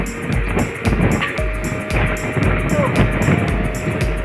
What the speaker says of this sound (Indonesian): Angin mulai kencang.